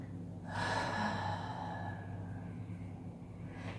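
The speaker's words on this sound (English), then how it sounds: "find your exhales out through your lips" A slow exhale out through the lips during a shoulder-opening yoga class, a soft, breathy rush that swells and then trails off over low background hum, with no speech.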